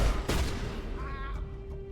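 A shotgun fires in the Mass Effect game, one sharp loud blast with a booming tail, followed by a short electronic whine in a busy combat soundscape.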